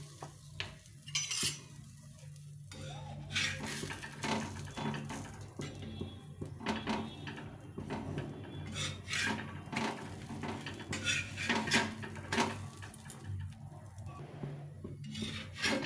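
Rolled cauliflower-stuffed wheat flatbread dry-roasting on a hot griddle with no oil, soft scraping and tapping of a utensil over a faint sizzle, close and quiet, with no voices.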